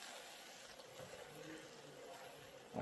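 Water poured from a can onto a potted chilli plant being repotted at home, a soft steady trickle and splash running for several seconds, faint and close, ending in a brief louder rustle.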